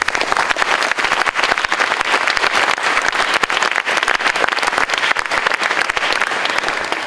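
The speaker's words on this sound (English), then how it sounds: "An applause for all the speakers" An audience at an organic farming event breaks into dense, continuous applause for the speakers, loud and sustained throughout with many hands clapping close by.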